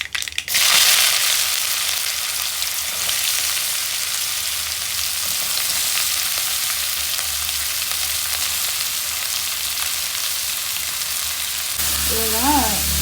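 Onion sizzles and crackles as it fries in coconut oil for a Kannada-style sabbakki soppina palya, a loud, steady hiss running throughout with a brief voice near the end.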